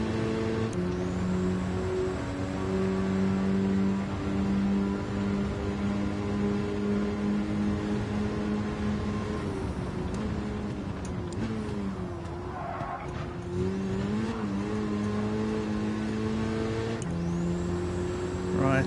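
A racing car engine in a racing video game holds a sustained buzzing whine, with gear changes and dips in pitch midway before climbing again, loud and continuous.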